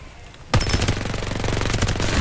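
Rapid automatic gunfire in the video game Farlight 84 starts abruptly after a short lull and rattles on as a loud, fast, even burst of shots to the end.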